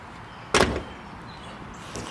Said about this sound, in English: I actually have a door that closes smoothly, or mostly.